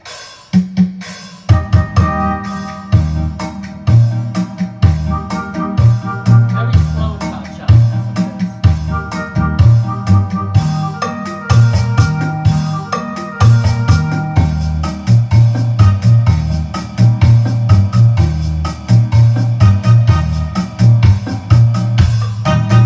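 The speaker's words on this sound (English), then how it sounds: "And next rhythm is going to be the cha-cha-cha." A Yamaha CVP-75 Clavinova plays a steady Latin cha-cha-cha groove with chords, bass and percussion, looping evenly and continuously at a moderate tempo.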